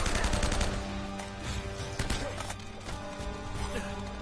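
Gunfire in Uncharted 1, dense rapid shots and sharp impacts rattling close and loud throughout, with occasional heavier cracks standing out.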